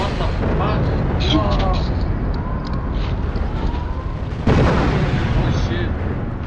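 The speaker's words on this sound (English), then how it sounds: "So many explosions" Loud, rumbling blasts and booming bursts fill a GTA Online battle in a continuous roar, with voices shouting faintly beneath the din.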